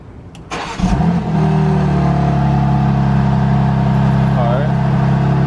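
A 2024 BMW G80 M3 fires up with its exhaust valves closed: a quick starter crank, a sharp rev flare, then settling into a steady, deep idle rumble close by, with a voice briefly heard.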